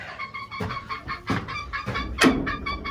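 Several chickens cluck and murmur steadily at close range inside a coop with fresh shavings, with a louder squawk near the end, no talking.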